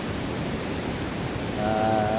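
Big ocean waves churned up by Typhoon Kristine roar as a dense, unbroken wash of surf, loud and close, with a faint tonal whine appearing near the end.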